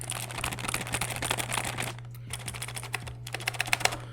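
Typing on a white GK61 mechanical keyboard with Gateron Blue switches: rapid, crisp clicky keystrokes in a dense burst, then a pause and sparser individual clicks, recorded close over a steady low hum.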